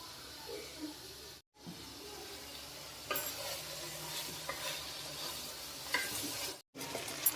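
Broad beans sizzle and fry in a pan while a spoon stirs them, a steady soft hiss with scraping and clinking bursts, close and quiet, briefly cut by two short gaps.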